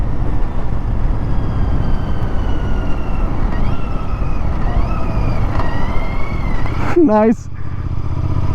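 Royal Enfield Interceptor Bear 650 with its 650 parallel-twin engine, a steady loud exhaust drone at riding speed with rising revs, a voice speaking briefly over it.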